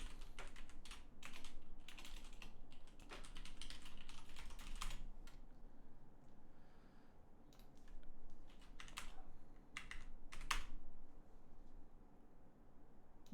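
Typing on a computer keyboard, with bursts of rapid key clicks separated by short pauses, close and moderately loud, no voices.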